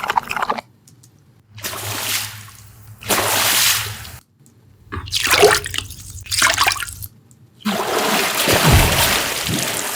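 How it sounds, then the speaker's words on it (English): Water splash sound effects auditioned for fantasy sound design, several separate bursts of splashing and sloshing water with short silent gaps between them, loud and close. "Let's do water splash."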